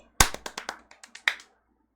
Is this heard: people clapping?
yes